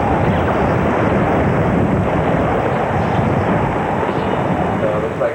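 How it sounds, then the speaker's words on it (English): Hurricane Andrew's winds roaring outside a house as the storm comes ashore at the tip of Florida, a loud continuous rushing roar that fills the whole stretch with no pauses. "You can start to hear the roar outside."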